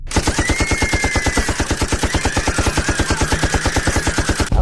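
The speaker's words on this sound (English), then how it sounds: "A volley of gunfire breaking the robotic routine of the everyday downtown shuffle" A long, rapid burst of gunfire, 38 shots in about 12 seconds in steady quick succession, loud and continuous, on a downtown street.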